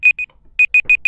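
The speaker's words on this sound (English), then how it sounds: "So tumunog na yung ating alarm." An alarm sounds during an online exam review session on motors and motor controllers, giving six short, loud electronic beeps in an uneven rhythm, with two quick tones, a pause, then four more, and no talk over it.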